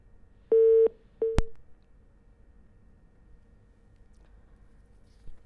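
A telephone line tone sounds for about a third of a second, then two brief tonal blips follow at the same pitch while someone tries to place a call. Afterward only a quiet line hiss remains.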